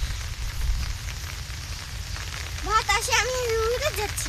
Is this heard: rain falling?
yes